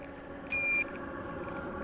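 A detector alarm sounds beside a Chinese diesel heater, a single short high electronic beep over a steady low mechanical hum and blowing air, with no talking.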